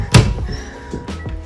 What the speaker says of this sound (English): When I open this door, let's see what we see.